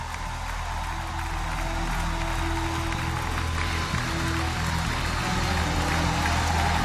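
Church congregation rising to applaud and cheer their pastor, a steady broadband wash of clapping and crowd noise that fills the whole stretch at an even level, with no clear talk over it.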